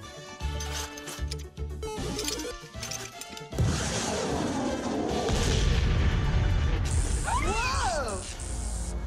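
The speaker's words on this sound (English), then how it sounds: "I'll nuke him with my atomic spud gun." A cartoon atomic spud gun fires a booming, crashing blast over an animated scene, with a dense roar and wailing, swooping effects, following a stretch of music and effects; no clear talk.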